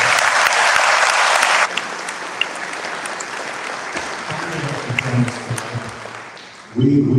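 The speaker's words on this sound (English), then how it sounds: "Would you give them a round of applause?" A burst of loud audience applause at a National Teacher Hall of Fame induction ceremony that fades after a couple of seconds into crowd murmur, then a voice begins speaking.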